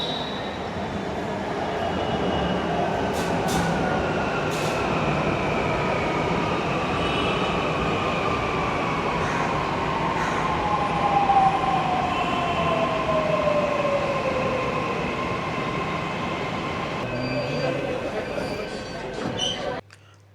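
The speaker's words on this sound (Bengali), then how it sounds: "আন্ধেরির জন্য মেট্রো আসছে।" A Mumbai metro train arrives at a station with a loud, continuous rumble of wheels and motors, a long squeal sliding downward as it brakes, and a few sharp clicks, while a voice talks throughout.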